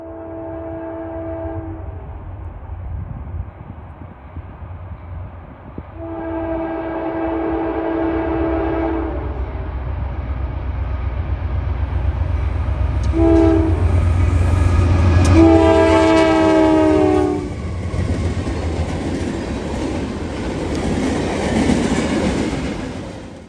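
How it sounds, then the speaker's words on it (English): A Norfolk Southern freight train, 18M running from Elkhart, Indiana to Crewe, Virginia, rolls past in Marion, Ohio, sounding several long horn blasts over a loud, steady rumble of passing cars and wheel clatter. "The train in question was 18M, Daily Elkhart, Indiana to Crewe, Virginia."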